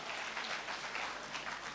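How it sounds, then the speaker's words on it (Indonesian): A church congregation claps together in steady, dense applause that fills the whole short moment without a break. "Berikan tepuk tangan."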